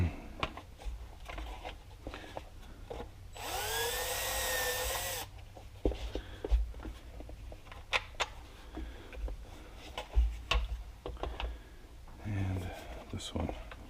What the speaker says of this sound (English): They just work a little smoother than a regular drill bit when you're trying to not over drill something